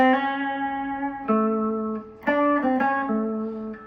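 Clean electric blues guitar notes bend slowly upward toward the major third without quite reaching it and sustain, a few single phrases with short gaps between them, played alone.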